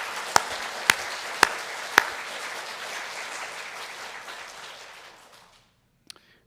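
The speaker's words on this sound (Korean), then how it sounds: "이 시간 왕 되신 하나님께 힘차게 한번 박수 한번 해보실래요?" A church congregation claps together in a sustained burst of applause, opened by a few sharp louder claps, fading out over several seconds before a final lone clap in the quiet.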